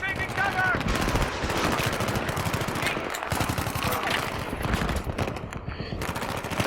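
Burst-mode gunfire in the Battlefield 3 campaign, dense rattling bursts of rifle fire over continuous battle noise, loud and near, with a voice speaking partly underneath.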